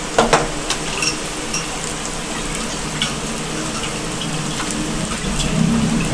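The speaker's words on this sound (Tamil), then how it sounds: "கொஞ்சம் லைட்டாக வதக்கிக்கலாம்." Onions and sundakkai sautéing in a pan for Tamil vatha kuzhambu, a steady close hiss and crackle of frying with faint stirring scrapes throughout, no talking.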